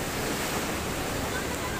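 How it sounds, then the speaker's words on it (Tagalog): Ocean surf at Tahara Long Beach in Japan, where surfers are out, forms a steady, dense roar of breaking waves heard close and loud, with wind buffeting the microphone throughout. "Grabe yung alon dito oh."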